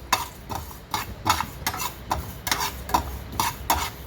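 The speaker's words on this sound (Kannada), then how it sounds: "ಒಂಚೂರು ಎಲ್ಲ ಪರಿಮಳ ಬರೋವರೆಗೂ ಹುರ್ಕೋಬೇಕು" Dry-roasting chilli oil ingredients in a pan until fragrant: a spatula scrapes and tosses them in steady, repeated strokes about twice a second, close and clear, with no talk.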